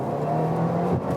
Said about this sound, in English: I'll leave it at 50 kilometers an hour and accelerate to 80 kilometers an hour on straight surface.